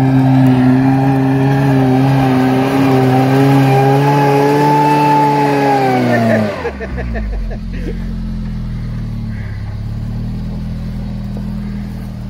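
An off-road vehicle strains uphill on a wet slope, its engine rising in a loud, sustained rev for about six seconds before abruptly dropping to a lower, rumbling note that continues close by.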